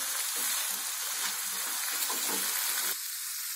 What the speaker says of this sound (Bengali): এরকম আরেকটু আমি এটাকে কষাবো